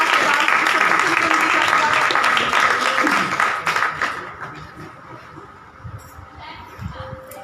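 Applause rises from a church congregation during a sermon, fills the first few seconds, then dies away, leaving quieter voices and room noise.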